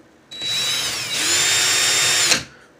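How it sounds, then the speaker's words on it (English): A handheld power drill spins in reverse to loosen a twisted Clapton vape coil wire, one close, steady whine lasting about two seconds that rises in pitch midway before stopping, with no talking. "I'm going to put my drill in reverse"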